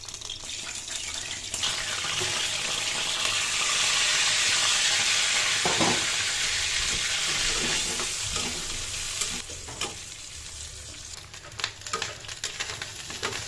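Carp fish roe fries in a pan with ginger, garlic and cumin paste, sizzling loudly and steadily while being stirred, with scraping and clinks toward the end.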